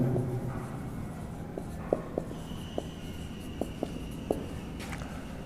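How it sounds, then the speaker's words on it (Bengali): Chalk or pen writing during a math lesson makes faint scratchy strokes and a handful of sharp little taps against a quiet room background. "এখন আমরা লিখব আমরা জানি"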